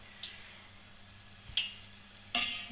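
Gulab jamun balls frying in oil give a low steady bubbling hiss, broken by three brief crisp pops or clinks spread over a few seconds, with no one speaking.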